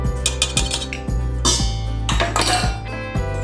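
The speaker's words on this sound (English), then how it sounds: "I'm just going to sieve this cocoa flour at least" Cocoa powder and flour being sieved for a triple chocolate brownie cake, heard as a close run of bright clinking metallic taps, roughly two per second, with no voices.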